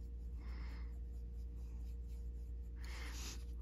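A colored pencil scratches across paper in two short bursts of medium to heavy shading over a constant low electrical hum.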